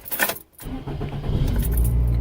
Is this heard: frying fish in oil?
no